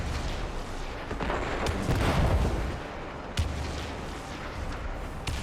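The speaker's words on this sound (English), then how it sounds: "Next up, I'm going to push the exploding barrels off." Exploding barrels pushed off a ledge and blowing up in Destiny 2's Inverted Spire, a swelling rumble of blasts building to a heavy peak with a few sharp cracks afterward, loud amid steady battle noise.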